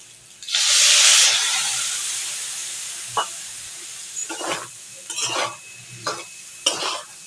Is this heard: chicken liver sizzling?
yes